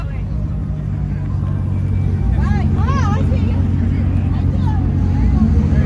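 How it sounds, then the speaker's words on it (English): A McLaren sports car rolls in at a supercar gathering, its steady low engine rumble building slightly as it nears, with crowd chatter and a faint tonal whine over the top. "Look at this McLaren rolling in."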